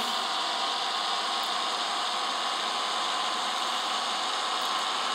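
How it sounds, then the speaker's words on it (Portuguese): A loaded truck decelerates on its engine brake with the driver's foot off the accelerator, giving a steady, even engine drone and hiss from inside the cab with no talking. "Escuta o freio motor. Eu tiro o pé do acelerador, ó."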